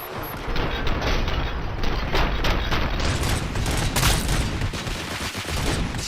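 Gunfire rattles in the video game Robocop: Rogue City, a dense, loud fusillade of rapid shots that runs continuously through the stretch.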